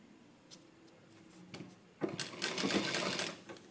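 A sewing machine stitches lining cloth for a leaf neck design with pom-pom trim, starting with a few soft clicks and then running in a loud, fast, steady rattle.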